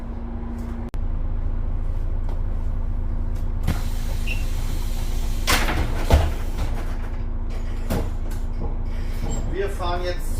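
A MAN A21 city bus drives at night with a steady engine and road rumble inside the cabin, broken by a few sharp clunks and rattles, with no talking.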